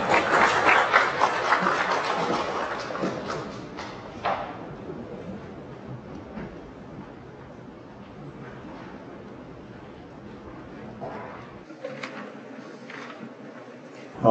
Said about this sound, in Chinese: 掌声欢迎郑伦教授